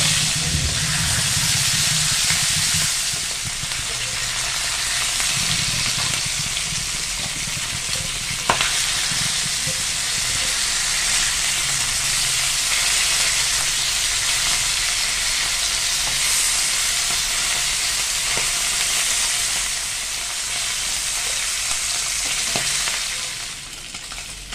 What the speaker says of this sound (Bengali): সর্ষের তেল দিয়ে মাছগুলো কিন্তু ভেজে নেব।